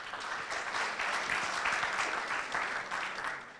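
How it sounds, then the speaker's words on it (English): An audience at a technical conference session gives the panelists a sustained round of applause, steady and roomy, fading slightly at the end. "Can we please give them another round of applause?"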